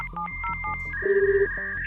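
Telephone dialing tones from a 1989-style BBS hacking video game, a quick run of short touch-tone beeps followed by a longer steady tone, clear and close with no voices.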